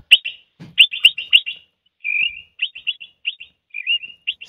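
A man imitates a chaffinch song at a European birdsong imitation championship, whistling bright, rapid chirps in short bursts separated by brief pauses, loud and close with no talk.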